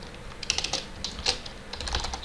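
Quick, uneven clatter of keys being typed on a computer keyboard while entering Java code, close and fairly crisp, with small bursts and pauses and no speech.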